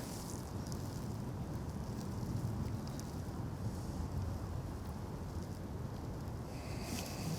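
Steady cold wind rushing over open water, a constant broad roar buffeting the microphone with no breaks, loud and close throughout the stretch.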